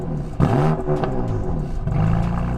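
A BMW M4 with a tuned, raspy exhaust revs hard twice, the engine note swooping up and falling back between loud, close blips.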